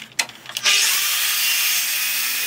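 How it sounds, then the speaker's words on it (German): A miter saw spins up and cuts through an acrylic glass strip during a guinea pig cage build, a few short clicks and knocks first, then a loud sustained whining cut, close and with no voices. "muss ich natürlich die Schräge auch mit der Kapp- und Gärungssäge ranschneiden"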